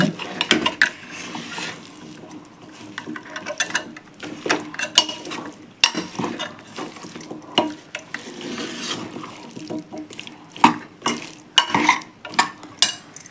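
A spoon or ladle scrapes and clinks around a metal pot as sambar is stirred after masala powder goes in, giving irregular close-up knocks and rattles with no talking.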